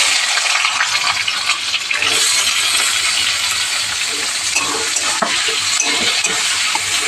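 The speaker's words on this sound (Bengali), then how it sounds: "এই যে আমি পেঁয়াজগুলো দিয়ে দিচ্ছি।" Onions frying in a pan give a steady, loud sizzle, while a spoon stirs and scrapes close by at an uneven rhythm.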